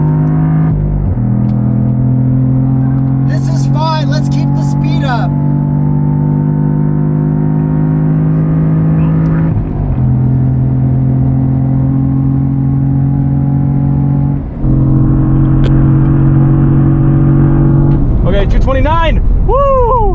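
A 2022 Cadillac CT4-V Blackwing pulls hard on a racetrack, its engine a steady loud drone with brief dips at each gear change. The engine runs continuously up close from the cabin, and a voice is heard briefly over it.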